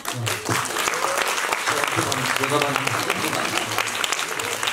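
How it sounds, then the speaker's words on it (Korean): Audience applause for the director at a Busan International Film Festival screening and talk for A Tale of Two Sisters, sustained clapping from a crowd with some voices mixed in. "큰 박수 부탁드립니다"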